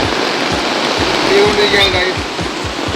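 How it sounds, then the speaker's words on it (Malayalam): Heavy rain pours steadily, a dense, even hiss during outdoor grilling at home, loud throughout, with someone speaking briefly over it. "ഒരു സൈഡിൽ നല്ല മഴ"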